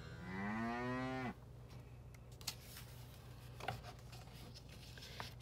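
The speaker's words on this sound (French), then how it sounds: "On entend alors un beuglement dehors." A cow lets out one long, loud moo outdoors, followed by quiet outdoor ambience with a few faint taps and knocks.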